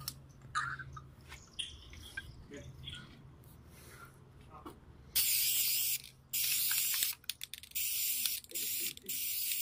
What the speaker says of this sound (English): I can spray paint one of these right now. I'm gonna do it.